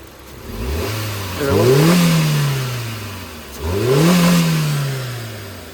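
A 1.2-litre petrol engine in a 2022 Hyundai i10 Nios is revved twice with the hood open, each blip rising sharply then settling back to a steady idle, close and loud.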